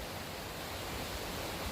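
Big Dipper Waterfall on Poland Creek pours in a steady, broad rushing roar, loud and close, with no voices.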